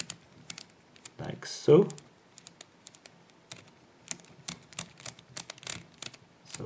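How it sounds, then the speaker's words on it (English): Sharp, rapid clicks and ticks of a Kryptonite Kryptoflex 815 bike combination lock as its knob and dials are turned, close up and irregular, with someone speaking briefly. "To change the code you have to turn this knob and then you can enter a new code"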